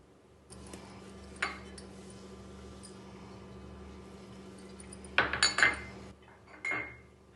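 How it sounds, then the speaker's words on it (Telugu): Clinking of a utensil against a metal bowl while mixing vada pav stuffing, a few scattered taps then a brief flurry of scraping and knocks, close by with no talking. "ఇంగ్రీడియంట్స్ అన్నీ ఒక గిన్నెలో తీసుకొని స్టఫింగ్ గురించి కలపాలండి"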